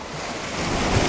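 Ocean waves break on the Spanish coast, a continuous loud surf wash with wind noise buffeting the microphone.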